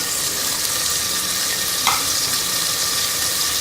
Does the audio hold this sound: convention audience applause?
no